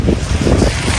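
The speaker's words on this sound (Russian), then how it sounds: "ветрюганечка начинается" Gusty wind roars steadily across a microphone outdoors in Crimea during a heavy downpour, a loud continuous rumble with broadband rushing noise and no voices.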